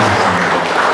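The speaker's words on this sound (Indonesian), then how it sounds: "Tepuk tangan buat Oma." A church congregation at a monthly mass claps for an elderly woman, a dense, loud wash of applause filling the short moment without talk.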